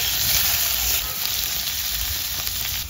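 Vegetables frying in a pan, which makes a continuous loud hiss and sizzle close up, briefly louder at the start, with no voices.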